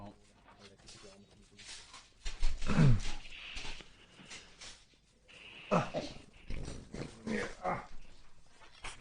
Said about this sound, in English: Little doggy.